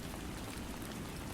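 Steady rain falling, a soft, continuous, even hiss of drops that stays faint and unbroken throughout, with no voices.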